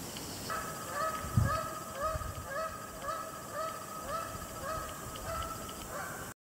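A flock of Canada geese honking repeatedly in a steady overlapping chorus, moderately distant, over a low outdoor rumble with a brief thump.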